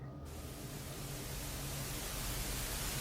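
Steady broadband static hiss, loud and even throughout with no other sounds, like pink noise from a detuned radio.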